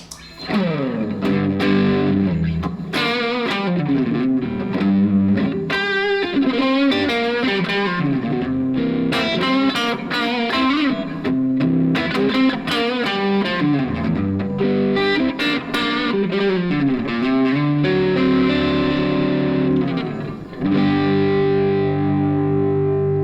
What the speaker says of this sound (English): let's try it with the Overdriven sound